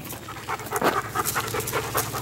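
A small puppy pants rapidly and close up, quick rhythmic breathy huffs repeating steadily for a couple of seconds, with no talking.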